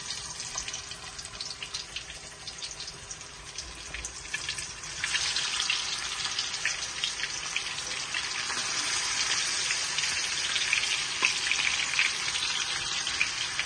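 Fish frying in hot oil while cooked with shatkora, a continuous bright sizzle that grows louder partway through and stays steady, with no talking.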